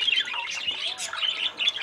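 Pet birds chirp and tweet steadily while feeding, a busy cluster of high, close calls with no talk.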